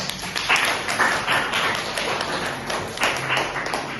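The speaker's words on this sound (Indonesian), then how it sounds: "Tepuk tangan dong." Seminar audience at a business talk clapping together, a dense steady patter of many hands over four seconds at moderate loudness with no voice over it.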